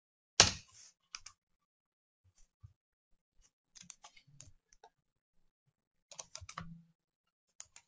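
Typing on a computer keyboard in short, sparse bursts of close, crisp key clicks separated by silent pauses, starting with one louder knock.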